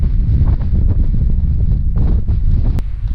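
A strong gust of wind roars across the microphone on Snowdon's Miners' Track in July, a loud, low buffeting rumble that holds for several seconds with small surges.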